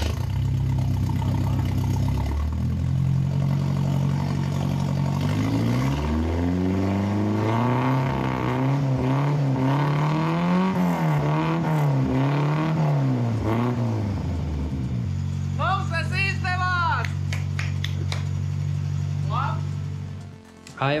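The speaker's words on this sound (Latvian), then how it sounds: "bērnības sapni par skaļu mašīnu ar taisnu izplūdes sistēmu" A loud car engine with a straight-through exhaust idles, then revs repeatedly in rising and falling surges before settling back to a rumbling idle, close by.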